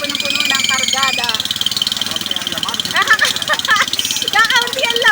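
Vehicle engine running with a steady low throbbing rumble along a railroad area, heard under almost continuous nearby talking.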